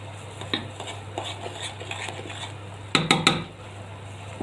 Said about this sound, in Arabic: وهنقلب كويس